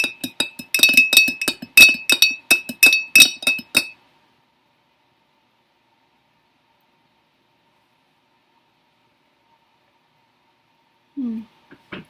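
A spoon stirs a drink in a glass, making a quick flurry of bright clinks and taps for about four seconds. Silence follows, then a brief voice speaks near the end.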